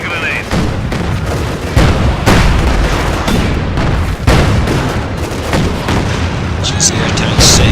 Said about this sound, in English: Enemy armor firing!